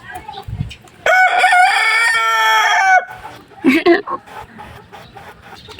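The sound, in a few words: silkie chickens clucking while being fed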